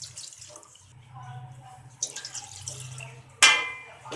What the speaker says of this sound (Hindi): 2 कप हमने और पानी इसमें डाल देना है।